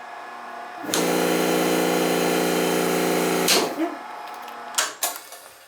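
A vacuum running in a pottery studio, mounted on rubber feet beside a small fan: it starts abruptly with a loud, steady drone, cuts off after a few seconds, then a couple of sharp clunks follow.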